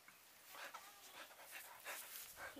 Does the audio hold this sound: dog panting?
yes